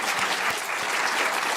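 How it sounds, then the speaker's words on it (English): Audience at a Yale lecture on Russian, East European and Eurasian studies applauds with steady, dense clapping throughout the short moment, no voices over it. "Applause is appropriate."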